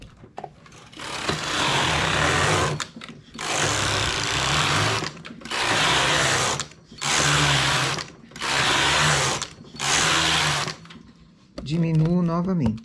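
Knitting machine with a ribber carriage knitting rows of a jumper, six loud, regular mechanical whooshing passes of about a second each separated by short pauses, with a voice speaking briefly at the end.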